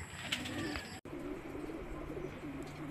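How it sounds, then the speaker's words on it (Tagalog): Racing pigeons released at a pigeon racing club, with cooing and fluttering bird sounds over a dense, steady outdoor background, broken by a brief dropout near the middle. "napakawalan yung mga kalapate dito sa may All Star Club"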